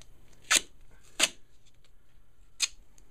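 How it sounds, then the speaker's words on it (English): Gaff tape is torn off the roll in three short, sharp rips, the first two close together and the last after a pause, close and clear over a quiet background. "rip off a piece of gaff tape."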